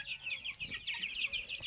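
Young roosters and hens in a flock on a mountain pasture farm, clucking and chattering continuously in close, busy overlapping calls.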